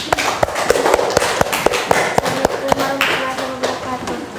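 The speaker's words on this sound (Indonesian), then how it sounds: "tepuk tangan untuk kelompok 2" Classroom applause for a student group, sharp irregular hand claps from a small group of students, close and fairly loud, with some voices mixed in.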